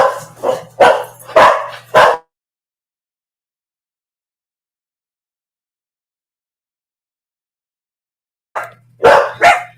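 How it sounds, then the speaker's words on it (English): Several dogs bark excitedly at someone walking outside, close and loud, in two rapid bursts: a volley of barks at the start, a long silence, then another flurry near the end. "Somebody must be walking outside because the dogs are going crazy."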